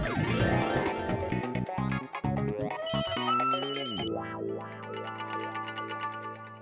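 A telephone ringtone plays a bright electronic melody, then shifts to a steady repeating ring pattern, close and clear with no talking over it.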